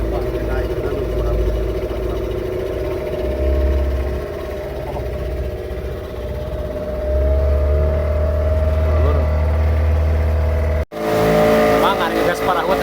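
A boat motor on the lake at Situ Panjalu revs and drones in loud, uneven surges with a low rumble, while people talk over it before a brief cut near the end.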